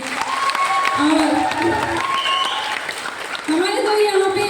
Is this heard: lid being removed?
no